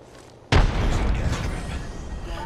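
A frag grenade in Apex Legends detonates with a sudden loud boom, then a dense rumbling roar that holds for about two seconds.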